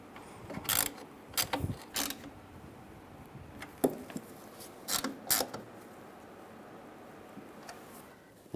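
Bolts on the A/C condenser of a 1998-2010 Volkswagen Beetle are snugged down with a ratchet, giving several short bursts of clicking separated by quiet pauses, close and fairly soft.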